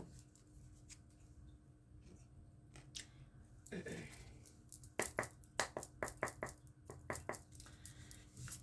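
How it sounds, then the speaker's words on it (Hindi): Tarot cards slid and set aside on a table, a scatter of crisp papery clicks and brushes growing busier toward the end, close and fairly quiet, with no voice over them. "सबसे पहले मैं ये कार्ड्स जो है एक तरफ रख देती हूँ ताकि यहाँ पर जगह बन जाए।"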